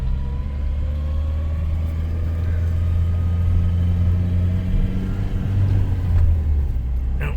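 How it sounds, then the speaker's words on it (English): A car passes on a city street, its engine producing a steady low rumble that swells slightly as it goes by, heard fairly close and alone. "give it just a minute for this car to pass"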